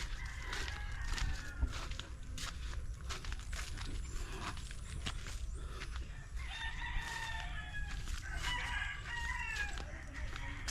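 Many chickens and roosters at a rural area full of chicken coops cluck and crow continuously, several calls overlapping at moderate distance amid faint scuffling and outdoor ambience.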